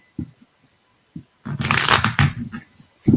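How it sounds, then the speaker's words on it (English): Tarot cards shuffled by hand: a few short soft taps, then a dense riffling burst of papery flutter lasting about a second, followed by another brief tap, close and quiet. "this is the second time I've tried to shuffle my cards and they want to go together"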